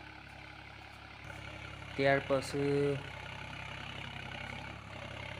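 A tractor engine hums low and steady during summer bajra sowing in a farm field, running continuously throughout while someone speaks briefly over it.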